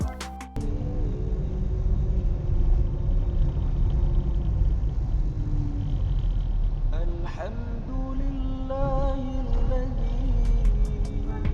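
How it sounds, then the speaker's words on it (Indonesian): Tyre and road rumble inside the cabin of a Kia All New Picanto city car on a rough, damaged road, a steady loud low drone that runs through the whole stretch with some tonal hum rising near the end. "suara ban itu terdengar sampai ke kabin"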